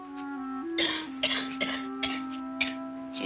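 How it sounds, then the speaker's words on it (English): A woman coughs repeatedly in short, harsh bursts over a steady musical drone, mid-distance and fairly clear, with no talk. "She's been coughing like that ever since last night."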